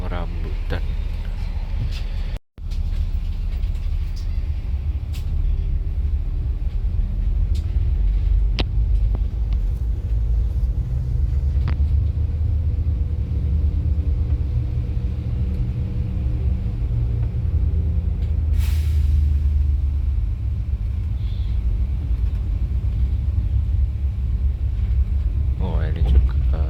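At Kampung Rambutan bus terminal, bus and vehicle engines rumble in a continuous low drone with passing traffic, and voices can be heard now and then in the background.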